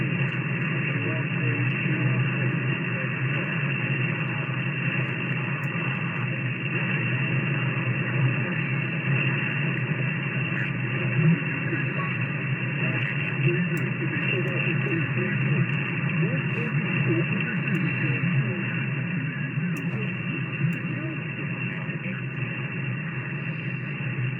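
A continuous band of hissing radio static fills the whole stretch on the 40-meter amateur band through a FLEX-6300 radio, with a faint, muffled transmitted voice buried in the noise.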